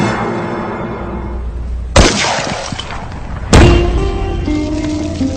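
An M16 rifle fires 5.56 mm rounds into a concrete cinder block at a range, two loud sharp cracks about a second and a half apart, each followed by a ringing reverberant tail, no speech.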